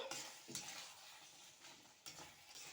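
Mutton pepper fry being stirred with garam masala in a pan, soft sizzling under quiet spoon scrapes and stirs, faint and close, with no voices.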